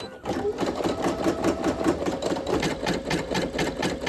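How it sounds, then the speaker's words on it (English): Embroidery machine stitching a design, a close, steady rapid mechanical whir with a fast regular pulsing of the needle that starts almost at once and runs throughout, with no talking. "You push this and it will start embroidering."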